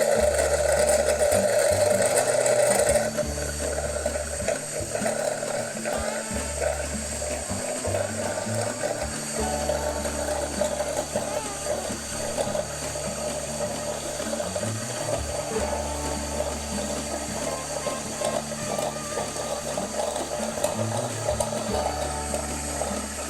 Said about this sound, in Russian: Полилась у нас вода из носика для молочной пены.